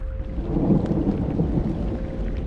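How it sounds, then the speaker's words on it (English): Steady rain falls on a grey morning at Valmikinagar in West Champaran, Bihar, a constant broadband wash with low rumbling underneath and no voices. "It is a grey and rainy morning at Valmikinagar"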